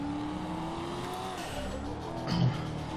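A car in GTA 5 revs hard under acceleration, a loud continuous engine drone with rising pitch and a brief tire squeal near the end.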